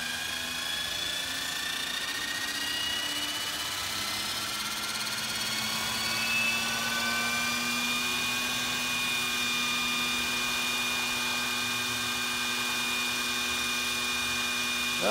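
A small electric RC helicopter rotor on an Aerodyne Roban EC135 whirs steadily, its pitch gradually rising as it spins up toward about 600 RPM at idle, with a noisy buzzing hum and no voices.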